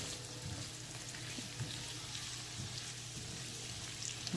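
Squash pieces frying in oil in a pan over medium-low heat, a steady close crackling sizzle with occasional soft scrapes as they are stirred and moved around, no voices.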